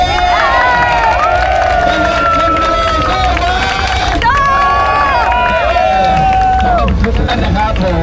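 A crowd cheers and shouts loudly at the SEA Games torch relay arriving in Pattaya, a steady roar layered with high, sustained whistle- or horn-like tones throughout.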